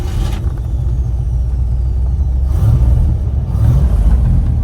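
A 1962 Chevy Corvette engine rumbles low and close, swelling in two short surges as a little gas is given, with no talk over it.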